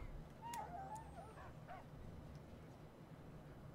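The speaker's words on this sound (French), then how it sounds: "Allez, cherche, cherche mon chien." Faint dog whimpers and short yips from a dog companion in a post-apocalyptic wasteland video game, a few brief high cries over a quiet low background rumble.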